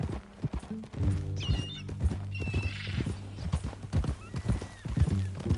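Horse hooves clip-clop steadily in Red Dead Redemption 2, the rhythmic footfalls close and clear over a low musical drone, with a horse whinnying now and then.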